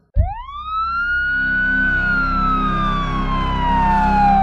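A siren rises sharply and holds a loud, sustained wail over a low vehicle rumble, pitch slowly sliding downward as it continues.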